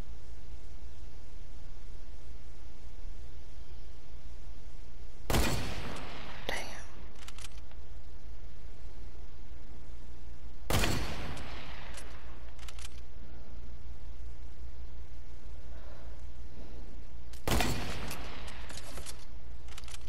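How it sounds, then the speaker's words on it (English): Hunting rifle fire in Fortnite: three loud, sharp single shots spaced several seconds apart, each with a brief ringing tail, over a low steady game hum. "I'm trying to learn how hunting rifles shoot."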